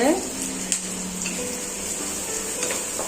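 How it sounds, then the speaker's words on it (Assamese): Sliced onions sizzle and crackle in a hot pan while being stirred, a steady frying hiss with faint scraping ticks and a high background whine, fairly close. "এতিয়া দেখিছে এয়া পিঁয়াজ অলপ দি পেলাই ভালদৰে লৰাই দিছোঁ"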